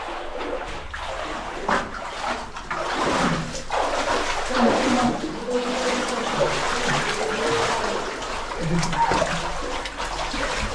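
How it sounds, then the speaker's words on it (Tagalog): Water running and trickling inside a long cave deep in a remote forest, a steady wet wash with splashes, echoing around a group of people who talk over it throughout. "Tubig. Tubig, ganda eh."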